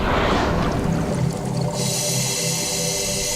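Humpback whales vocalizing off Jessa Point: long, moaning tonal calls rising and falling over steady ocean water noise, with a bright hiss entering partway through.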